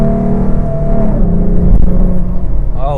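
A tuned 2014 Ford Mustang V6 with coilover suspension accelerating on the road, a loud close engine rumble and whir climbing in pitch, with a short gear change and road noise.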